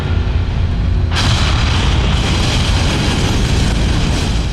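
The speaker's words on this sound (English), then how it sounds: "An explosion rips the plane apart." A sudden loud blast erupts as an explosion rips a plane apart at 10,000 meters, a sustained, roaring rumble that fills the space without fading, no voices.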